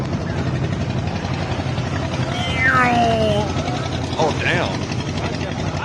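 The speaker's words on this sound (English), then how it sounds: "What's that chopper sound?" A helicopter's steady, loud rotor and engine roar fills the air overhead as someone shouts out over it.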